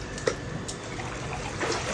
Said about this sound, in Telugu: చూడు నీళ్ళు వస్తుంది.